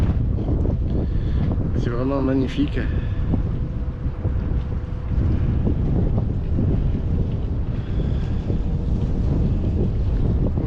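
Wind at a lakeside dam at Lac de Cavayère buffets the microphone in a steady, loud rumble throughout, while someone speaks briefly over it.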